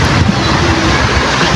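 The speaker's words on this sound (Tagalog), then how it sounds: "Mahangin po masyado ngayon." Strong, steady wind roars against the microphone by the sea, a dense rushing noise with faint water sounds underneath.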